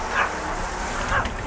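A dog that is cold and wants to come inside gives two brief, strained whimpering cries about a second apart, over low background rumble.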